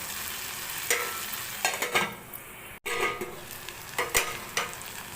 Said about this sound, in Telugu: వాటిని వేసిన తర్వాత ఎక్కువగా అట్టి ఇటు కలిపెట్టకూడదు కొంచెం అట్లా కలిపెట్టేసి ఒక రెండు నిమిషాలు ఈ టమోటా కూరలో ఉడకనివ్వాలి